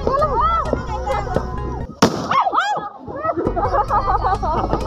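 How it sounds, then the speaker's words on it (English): A flash-bang pyrotechnic goes off in a single sharp, loud blast at a beach resort New Year's celebration, cutting through continuous crowd chatter and excited voices that carry on before and after it. "That's what they call a flash bang,"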